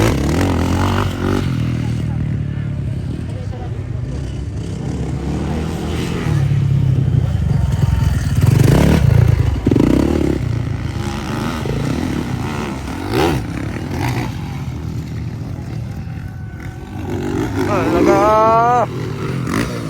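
Motorcycles racing in a pro open final heat in San Fernando, Bukidnon, engines revving and surging at close range with clattering and scraping, under loud commentary, dipping mid-stretch before rising again.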